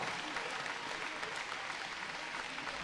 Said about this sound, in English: Well, Janja gets a big round of applause, but